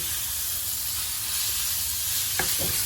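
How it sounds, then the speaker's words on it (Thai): Pork for northern Thai larb stir-frying in a pan, a steady close sizzle with a couple of brief scraping stirs near the end. "ก็คนไปเรื่อยๆนะคะให้สุกนะคะ"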